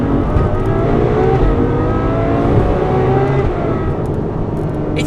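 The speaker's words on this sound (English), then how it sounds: "Just listen to the response of the downshift on this thing. That's firing up 12 cylinders." A Ferrari 812 Superfast V12 engine roars and revs loudly through a downshift, close and continuous, with rising and falling pitch.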